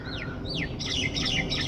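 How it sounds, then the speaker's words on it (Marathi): Several birds chirp in quick, sweeping high-pitched calls over a constant outdoor hiss and low rumble, fairly close and lively, in the forest at Vangani. "पक्ष्यांचा आवाज बघा ना"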